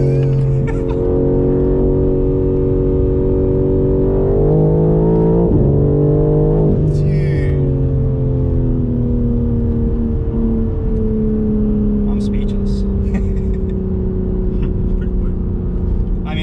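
A BMW G82 M4 Competition engine revs and pulls hard, its pitch climbing and shifting through gears, loud and close inside the cabin with voices talking over it.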